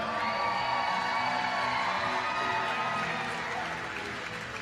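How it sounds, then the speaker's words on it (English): Roller derby crowd of High Roller fans cheering and applauding during a bout against the Heartless Heathers, a dense, loud wash of clapping, shouts and whoops that holds steady before easing slightly at the end. "give them some cheering!"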